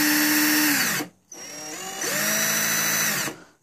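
A Hitachi power drill running in two bursts, a high whining motor that spins up, winds down for a short pause, then revs again and stops.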